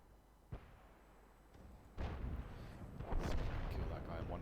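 Artillery fire in the World of Tanks video game, a sharp distant-sounding shot followed by a louder booming blast and rumbling battle noise that fills the rest.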